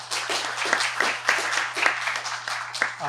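Sparse clapping from a small audience at a talk, a handful of distinct claps in an uneven rhythm over a steady low hum, with a voice starting at the very end.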